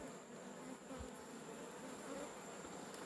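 Honeybees buzz steadily in close while red honey is harvested from a hive, a continuous faint drone with no talking.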